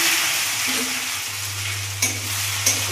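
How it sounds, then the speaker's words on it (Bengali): Chopped onions fry in hot oil with dried red chilies and a bay leaf, giving a loud, even sizzle with occasional scrapes of stirring. "এবার লাল লাল করে পেঁয়াজগুলো ভেজে নেব।"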